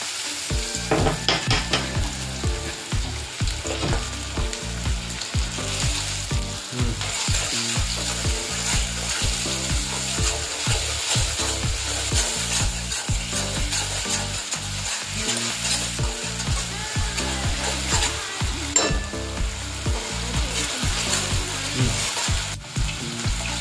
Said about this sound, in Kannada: ಈಗ ಈರುಳ್ಳಿ ಹಾಕ್ಯಂತಿದ್ದೀವಿ. ಈರುಳ್ಳಿ ಜೊತೆಗೆ ಒಂದು ಸ್ವಲ್ಪ ಶುಂಠಿ ಬೆಳ್ಳುಳ್ಳಿ ಪೇಸ್ಟ್ ಹಾಕ್ಯಂತಿದ್ದೀವಿ.